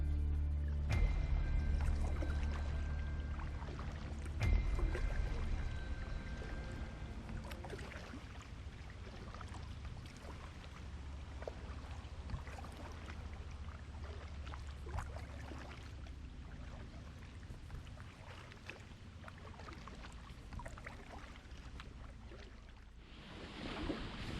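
A canoe is paddled along a canal, with soft water swishes and drips from the paddle strokes over a low rumble and light breeze, with no talking.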